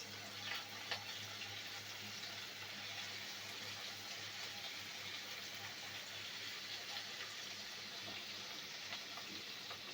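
Onion paste frying and being stirred in a pan with garlic for a chicken roast, a steady close sizzle with faint scraping throughout, no voices.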